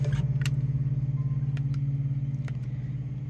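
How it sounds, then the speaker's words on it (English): A 2007 BMW 525i E60 engine idles steadily just after being started, a low, even hum with a faint pulsing beat and a few light clicks on top, close and alone with no talk. "We'll go ahead and turn the car back on."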